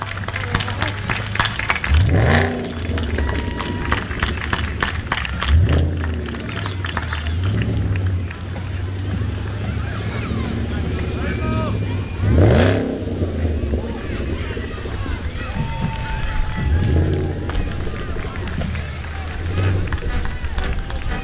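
A 2013 Stage 3 Mustang rolls through a patriotic street parade, its engine rumble mixed into a steady outdoor crowd hubbub with occasional louder passes and scattered cheering.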